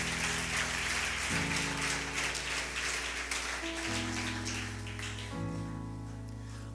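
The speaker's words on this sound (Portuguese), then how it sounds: "Aplauda o Senhor mais uma vez." Congregation in a church service claps steadily as a dense wash of applause over sustained organ or keyboard chords, fading slightly toward the end.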